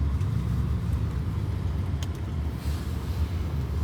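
From inside a car heading home through traffic, a steady low engine and road rumble drones on with faint outside noise and no speech.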